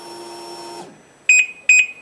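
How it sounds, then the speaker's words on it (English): Two short electronic beeps from a snowmobile at start-up sound close together after a steady electronic hum cuts off. "You listen for the beep"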